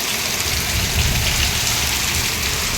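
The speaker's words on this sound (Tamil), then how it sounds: "இந்த மாதிரி மழை பெஞ்சால் கிச்சனில் ஃபுல்லாக மழை வந்துடும் ஃப்ரெண்ட்ஸ்." Heavy rain pours down hard, entering a kitchen, a loud steady hiss and patter with no break or pause and no voices.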